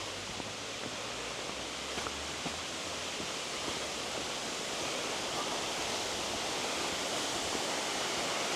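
A small woodland waterfall gives a steady, even rush of falling water that holds at one level throughout, with no voices.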